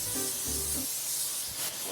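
Cooking spray hissing onto an outdoor grill in short bursts, a close, breathy spray sound over a faint background hum.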